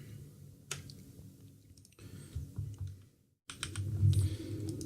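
Computer keyboard keys tapped during a first play of the game 3030 Deathwar Redux, a few quiet clicks in short bursts over low background game music, with a brief silent gap near the end.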